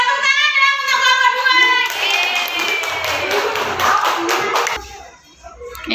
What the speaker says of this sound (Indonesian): Tepuk tangan dong untuk kelompok